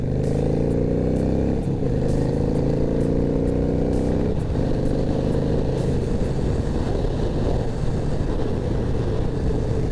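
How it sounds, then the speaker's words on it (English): A Honda motorcycle being ridden after a fork spring replacement, its engine droning loud and steady for the whole stretch, with pitch rising and falling as the rider shifts and changes speed, and no talking. "I just riding this right now and feeling this suspension"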